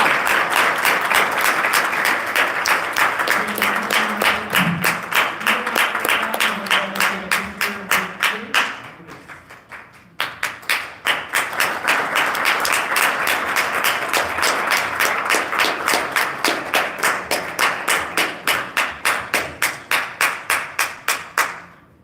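A gathering in Englewood breaks into rhythmic, unison clapping, sharp evenly spaced claps that pause briefly midway and then resume for a long steady run, with voices faintly underneath.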